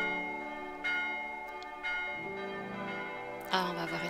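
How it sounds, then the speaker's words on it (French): A bell rings out in the video game Old Man's Journey, several resonant strikes with long ringing decay over soft game music. "La cloche."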